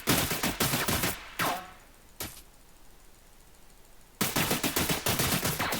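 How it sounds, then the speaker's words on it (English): Rapid gunfire from a rifle in an Unreal Engine 4 first-person shooter, loud bursts of shots, a pause with mechanical reload clicks, then another close, fast burst, with no talking. "Okay, I'm constantly shooting,"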